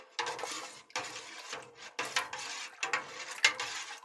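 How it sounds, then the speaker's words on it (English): Warm liquid culture mixture stirred in a container, about five rhythmic scraping clinks of a utensil against the sides, close and fairly quiet. "I'll stir it around."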